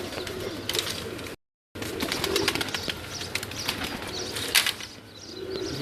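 Pigeons at a loft make soft cooing calls mixed with wing flaps and shuffling, close and moderately loud, with a brief gap of silence.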